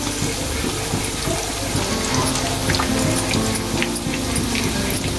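Mughlai paratha frying in oil in a pan, a steady crackling sizzle with a watery, bubbling texture running continuously at moderate loudness, no voices.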